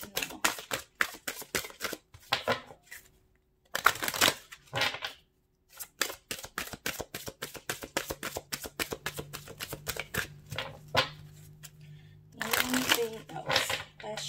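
Cards are shuffled in quick bursts of riffling flutters and snaps, repeated several times with short pauses, alongside a faint steady hum.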